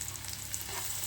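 Onions and dried fish frying in a pan, heard as a steady close hiss of sizzling oil with faint stirring, brief and continuous.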